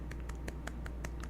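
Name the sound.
little claps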